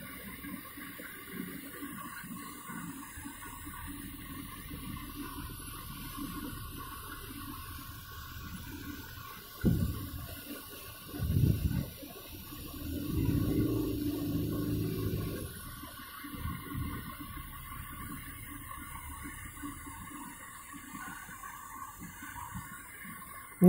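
Water from a burst heating main churns and gushes in a flooded basement, a steady low rushing roar with louder surging bursts partway through, heard alone without voices.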